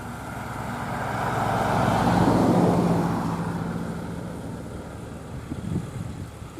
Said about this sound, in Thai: เมื่อรถไถนาวิ่งมานะครับ